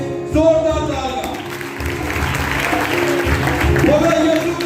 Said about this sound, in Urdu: تینوں کائنوں کے لیے زوردار تالیاں